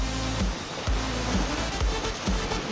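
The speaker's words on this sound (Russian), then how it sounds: "Волны." Waves on a Mongolian lake wash in and break in a steady rhythm, a low thump roughly every second over a constant broad rush of water.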